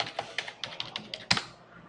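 Fingers tap out a password on a computer keyboard, a quick run of about a dozen light, close keystrokes with one sharper key press near the end.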